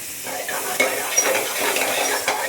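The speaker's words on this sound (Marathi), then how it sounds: "आता एक पॅन घ्यायचा आहे, त्याच्यामध्ये आपल्याला बटर टाकायचं आहे।" Butter melting in a pan over medium heat, giving a steady broadband sizzle with a few brief utensil clicks and stirring scrapes, close and fairly loud, with no talk.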